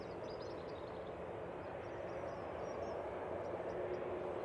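Ryanair Boeing 737 MAX 8 rolling for takeoff at Manchester Airport, a steady, fairly faint, distant jet engine roar holding even throughout with no voices.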